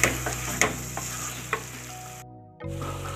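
Cream being stirred into chicken karahi in a pan: close spoon scrapes and clinks over a steady sizzle, with a short silent gap before the frying picks up again.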